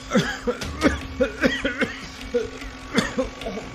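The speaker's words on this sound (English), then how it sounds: "why you're coughing?" Several short, rough coughs come in a loose series, close to the mic, over a low steady background hum.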